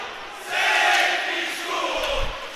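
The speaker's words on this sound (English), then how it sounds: "the Landon crowd chants safety school to the other side of the rink" A school student crowd at an ice hockey rink chants in unison during a high school league final, a loud, sustained collective shout echoing through the arena.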